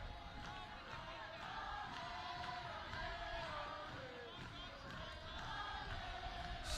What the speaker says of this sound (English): Still cheering